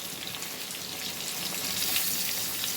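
Chopped tomatoes go into a frying pan for a methi fish dish, producing a loud, dense, continuous sizzle close up with no voices.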